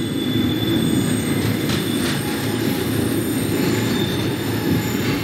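An R42 subway train in the OpenBVE train simulator pulls into DeKalb station on a Q run, with a steady loud rumble of wheels and rail plus faint squeal throughout, and no voices.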